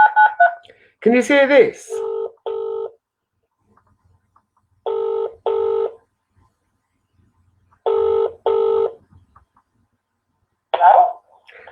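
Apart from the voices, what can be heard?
telephone dialing and ringing on speakerphone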